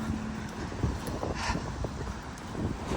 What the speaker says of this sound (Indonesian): dan tetap berangin juga.